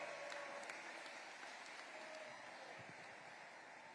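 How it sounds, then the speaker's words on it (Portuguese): A church congregation applauds in a soft, continuous wash of clapping that fades slightly over a few seconds, heard from some distance. "Pode aplaudir"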